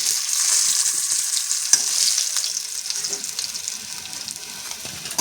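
Tilapia pieces fry in hot oil in a home kitchen, giving a continuous bright sizzle that stays loud and close. A few stirring clinks and small spatters break into it, and the sizzle eases slightly toward the end.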